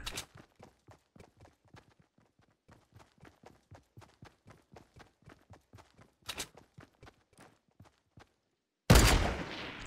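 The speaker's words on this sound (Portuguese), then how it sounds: "meu boneco fica atirando sem eu querer que ele atire" Gunfire in Fortnite Mobile, a long steady series of sharp, evenly spaced single shots, a brief burst near the end, then a sudden loud blast of noise.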